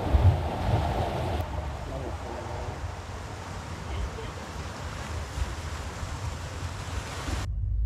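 Waves break on a beach on El Hierro in the Canary Islands, a steady rushing surf mixed with wind buffeting the microphone, continuous and moderately loud throughout, with a thump near the start.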